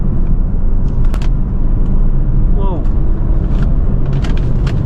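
A BMW 3 Series car with paddle shifters accelerates with a steady engine rumble and road noise, and someone talks over it.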